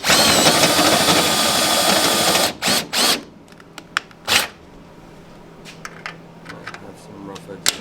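A power drill with a loose bit, used on a car build, whirs loudly and continuously for a couple of seconds, then gives several short, sharp bursts with quieter pauses between.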